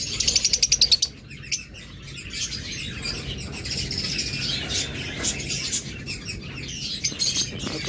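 A breeding pair of pet birds chirps, opening with a quick rhythmic burst of bright calls, then continuing with scattered twittering and tweets close by.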